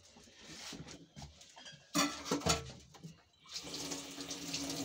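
Water runs from a kitchen sink tap in bursts, splashing and gurgling as onions are rinsed under it, rising loudly midway then settling into a steady close hiss of flowing water.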